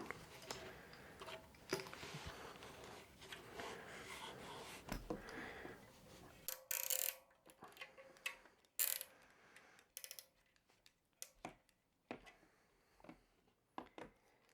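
Small bicycle parts being tightened and fitted by hand give a run of close, quiet mechanical ticks, clicks and ratchet-like snaps, spaced irregularly and with no talk over them.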